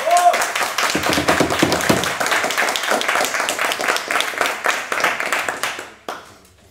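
An audience at a French university debating competition applauds the opposition's lead speaker, with sharp, distinct claps from many hands that keep a steady rhythm for several seconds, then cut off abruptly near the end.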